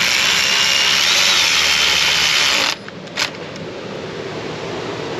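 A power tool runs a stud down on a BMW 530i 3.0 engine with a loud, continuous whirring ratchet buzz that cuts off abruptly, followed by a single faint click and quiet shop background.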